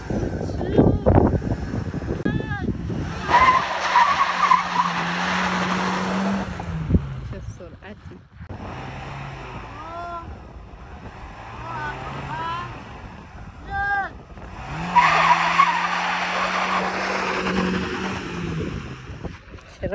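A car driving across a salt lake, its engine rising and falling through repeated revving passes with tyre squeal and skidding, loud and close, and a voice heard in between.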